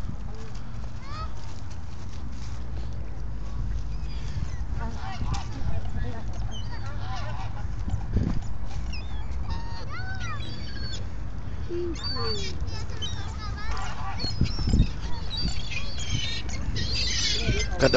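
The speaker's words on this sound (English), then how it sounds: "You see the ducks?" Geese or ducks honking and squawking intermittently outdoors, with people talking over the birds throughout.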